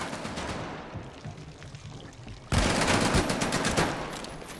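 Gunfire in Medal of Honor: Above and Beyond, a VR game, with dense rapid bursts. They are quieter and muffled at first, then jump to loud close automatic fire for the last two seconds.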